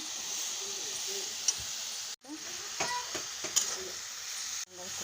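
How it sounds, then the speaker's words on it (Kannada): Ginger and garlic sizzle steadily in a pan for a kashaya, a bright continuous hiss broken by two abrupt cuts, with faint stirring clicks over it. "ಒಳಗೆ ಈ ಥರ ಚಂದಾಗಿ ಫ್ರೈ ಮಾಡ್ಕೊಂಡಿನಿ ನೋಡ್ರಿ"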